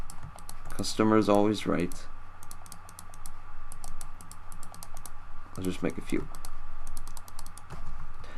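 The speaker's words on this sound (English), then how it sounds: "Sorry for all the clicking." Computer keyboard typing and mouse clicking during a Minecraft session, a steady rapid patter of key and click taps running throughout, close to the microphone, with someone talking over it in two brief stretches.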